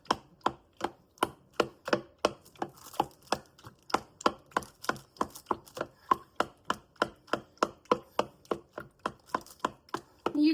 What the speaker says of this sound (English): Now I like to take a meat chopper and just chop them up.